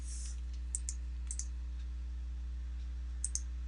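Light clicks on a computer keyboard while coding in Python, a few soft scattered keystrokes in short clusters over a steady low electrical hum, faint and close.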